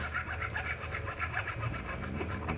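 A steel file rasping down a bushing on a VW Beetle front spindle, a steady gritty scraping with quick back-and-forth strokes, close and continuous with no talk.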